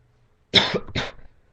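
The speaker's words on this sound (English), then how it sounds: "sorry, just had to let out another cough there." Two harsh coughs in quick succession, close and loud, followed by quiet.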